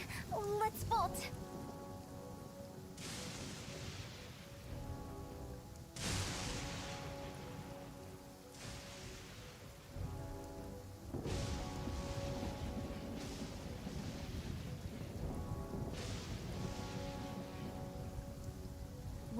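A game thunderstorm in Genshin Impact, with steady rainfall and several broad rumbling thunder bursts rising over background music, fairly loud throughout.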